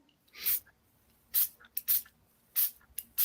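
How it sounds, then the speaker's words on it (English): A handheld spray bottle spritzes onto ink in five or six short, bright hissing bursts at an uneven rhythm, close and fairly quiet, with no voices. "spritz a couple times and you can kind of see it start to bubble up on the ink"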